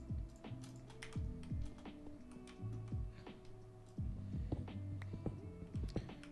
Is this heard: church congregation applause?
no